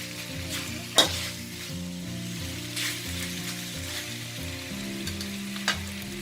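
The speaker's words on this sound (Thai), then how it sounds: "ค่ะเราจะผัดไปสักพักเดียวก่อนนะคะ เราผัดค่ะ" Curry paste for a Thai pork-rib chilli curry is stir-fried in a hot pan, with a steady close sizzle, repeated scraping stirs, and a couple of sharp utensil knocks against the pan.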